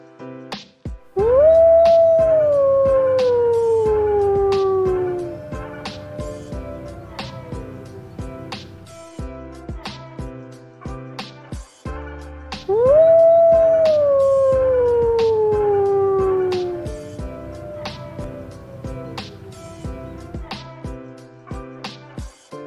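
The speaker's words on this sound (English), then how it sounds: "Wolf." A wolf gives two long, mournful howls, each rising then sliding slowly downward, separated by a pause and set against a steady tapping percussive backing.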